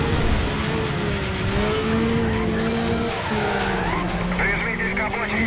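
Car tires skidding and screeching in Need for Speed Undercover as a car tries to ram another, loud steady engine roar with tonal squeal bands throughout, plus police radio-style chatter over it.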